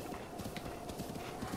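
Horse hooves clip-clopping in Zelda: Breath of the Wild, a steady quick trot of soft repeated hoof beats under a constant background wash of game ambience.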